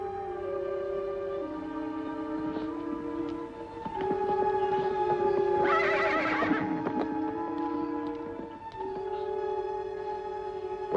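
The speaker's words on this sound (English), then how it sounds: "What about those horses, Ellen?" Horses whinny loudly in the middle of the scene, one long neigh rising over a steady bed of sustained music tones, with faint hoof clip-clops and shuffling around it.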